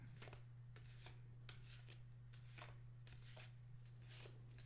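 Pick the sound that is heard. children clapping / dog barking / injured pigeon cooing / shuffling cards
shuffling cards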